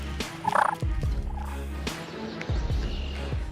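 Wild turkeys gobble repeatedly, bursts of rapid, rattling calls from several males during the mating season, fairly close and recurring about every second over an outdoor background.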